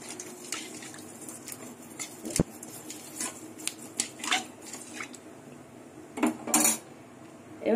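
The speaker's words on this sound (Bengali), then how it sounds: "তারপরে একটু হাতা দিয়ে আরো ভালো করে একটু ডলে নেবেন" A metal ladle scrapes and knocks against a pan while crushing bay leaf and radhuni seeds, making irregular clinks and scraping strokes with brief louder clatters.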